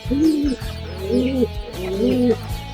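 Pigeons coo in three close, rounded phrases one after another, loud and near, with no talk over them, on a rural poultry farm where hens are kept.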